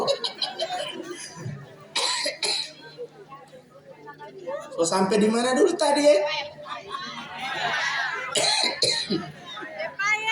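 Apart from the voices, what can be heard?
coughing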